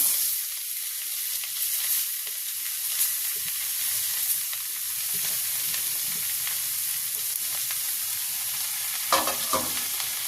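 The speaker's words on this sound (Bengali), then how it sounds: "ওই মূলোটা আমি এই তেলের মধ্যে দিয়ে দিচ্ছি।" Grated radish frying in hot oil: a steady, bright sizzle close up and continuous, with faint spatula scrapes and a couple of small clatters near the end, no voices.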